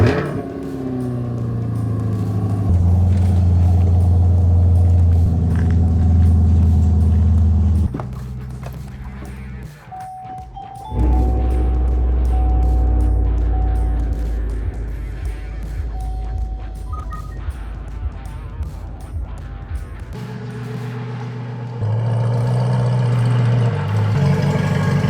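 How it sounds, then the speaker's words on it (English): A car's engine runs steadily and close by as it is driven back into a garage beside a truck, with a constant idle-like hum that shifts in pitch partway through and no talking. "So I'm gonna bring my car back in here, reposition the truck"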